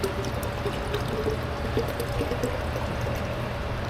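Water pours steadily into a bottle at a fuel station in north-eastern Brazil, a continuous trickling stream heard close over constant background noise, with no talking.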